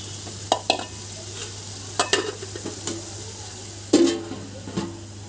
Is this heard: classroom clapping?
no